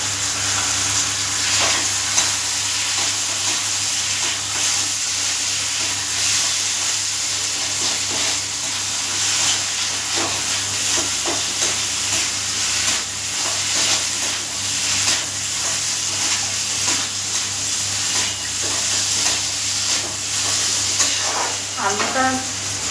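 Raw shrimp sautés with spices in a pan, a constant close sizzle with intermittent stirring scrapes throughout, ending with a brief clatter.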